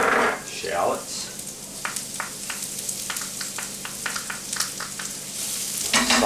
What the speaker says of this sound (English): Pan was good and hot, so those are cooking real quick.